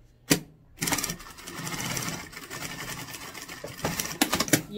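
A sewing machine runs a short seam about 8 cm long on fabric for a rounded zippered cosmetic bag lining, a steady motor whir with a few brief stops and restarts, close and loud.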